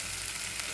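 Batter-coated stuffed pointed gourd frying in oil, a dense, even sizzle that fills the whole brief moment with no voices.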